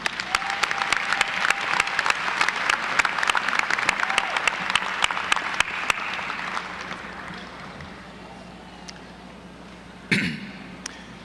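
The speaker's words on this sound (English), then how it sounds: "please join me in a round of applause for our speaker this evening" Audience at a spring FAMU commencement applauds the evening's speaker, a dense, steady round of clapping that gradually thins and fades out, with a few coughs and a sharp knock near the end.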